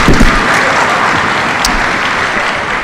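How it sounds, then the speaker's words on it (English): Concert audience applause for a junior string performer at a school string festival, a dense, steady wash of clapping that stays loud and close throughout. "give him a round of applause"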